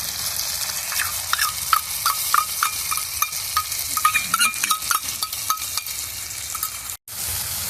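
Ground spice paste stirred into frying, softened tomatoes for a vegetarian brinjal dish, giving a steady close sizzle with repeated scraping and stirring clicks, briefly cutting out near the end.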